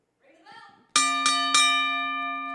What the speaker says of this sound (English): You can ring the bell.